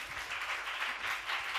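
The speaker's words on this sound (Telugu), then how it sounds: "అందరూ చప్పట్లు కొట్టండి" Church congregation applauding during a Lent prayer service, a steady continuous wash of many hands clapping together, moderately loud and close, with no talking over it.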